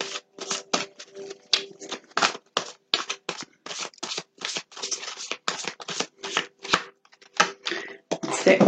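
Tarot cards are shuffled by hand up close in quick, rhythmic riffling bursts with brief pauses, steady and fairly loud, with no talk.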